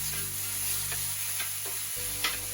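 Ginger garlic paste sautéing in a pan for Indian-style veggie meatballs, a continuous sizzle with light stirring scrapes and a low hum underneath.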